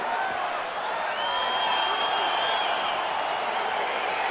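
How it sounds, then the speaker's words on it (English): Crowd noise swells in a UFC 4 arena as a fight gets underway on PS5, a steady roar of cheering with a few rising whoops holding evenly for several seconds. "crowd getting excited as this fight gets underway"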